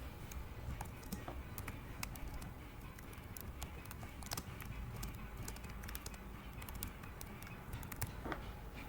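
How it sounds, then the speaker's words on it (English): Typing on a Chromebook keyboard: a steady, rapid run of light plastic key clicks, heard close but at low volume with no talking. "then you can start typing"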